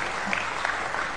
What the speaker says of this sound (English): Muted applause for that.